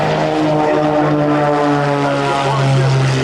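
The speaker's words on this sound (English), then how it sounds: "that's what we call the approach takeoff by the northern lights" Propeller aircraft of the Northern Lights aerobatic team take off together in diamond formation at a military air show, a loud, close, steady engine drone with a sustained harmonic hum.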